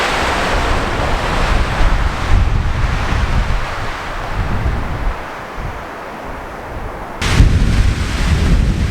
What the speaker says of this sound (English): the wind is definitely present here